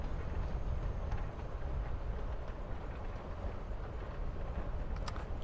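A train rolls along in the video game Life Is Strange: Before the Storm, producing a steady low rumble and faint rhythmic clatter throughout, with no talking.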